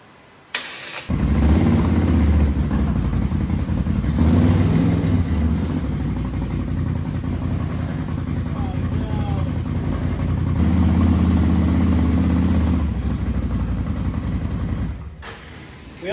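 An RC monster ATV's motor starts about a second in and runs steadily and loudly for around fourteen seconds, then cuts off near the end, with no talk over it.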